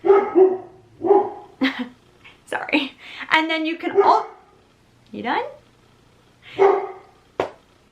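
A dog barks in short repeated bursts close by, several barks spaced irregularly while someone talks in between and over them indoors.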